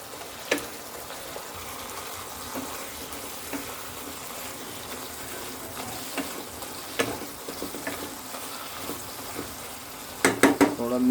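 Kashmiri chili powder being stirred into a dish simmering in a pot: a steady low sizzle with scattered scrapes and clinks of a spoon against the pot, growing busier and louder near the end.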